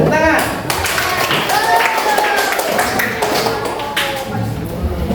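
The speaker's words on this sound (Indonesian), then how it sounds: "terima kasih. Tepuk tangan." Students in a classroom clap their hands, with rapid overlapping claps that sound fairly close, mixed with voices chattering throughout.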